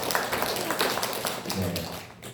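A church congregation claps together in thanks: a quick, dense patter of many hands for a couple of seconds, with a little talk mixed in.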